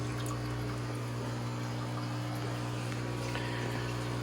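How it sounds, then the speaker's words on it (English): Water trickles steadily into a container for shrimp, a constant wash over a strong low electrical hum, loud and unbroken, with no talking. "let the container fill up"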